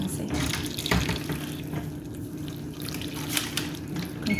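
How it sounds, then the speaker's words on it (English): Hot water pouring steadily from a tap onto tamarind in a kitchen for a Jamaican tamarind drink, a continuous close splashing and trickling flow lasting several seconds with no voice over it. "And then we will put our hot water in."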